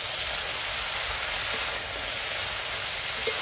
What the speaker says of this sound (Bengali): সব একসঙ্গে কষাবো।